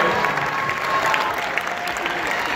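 An audience applauds inductees at a Rhythm and Blues Hall of Fame awards ceremony, a thick, continuous wash of clapping with a faint crowd murmur mixed in.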